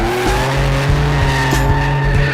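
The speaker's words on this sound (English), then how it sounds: "That's Darth Vader's engine in a Trans Am." A Pontiac Trans Am with a turbocharged V6 drives past, its engine a loud, steady drone with faint tire noise and no talk over it.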